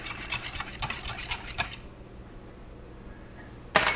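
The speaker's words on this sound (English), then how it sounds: "So we stir that up." Bread dough mixture being stirred with a utensil in a bowl, a run of soft, wet scraping strokes for the first couple of seconds, then near quiet before a sharp clatter at the end.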